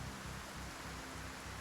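Steady, dense rain falls outdoors as a continuous broadband hiss with a low rumble underneath, fairly faint and uninterrupted throughout.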